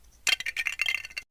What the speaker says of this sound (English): Let's import the Lego sound.